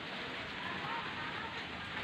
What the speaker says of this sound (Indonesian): Hari ini hujan ya.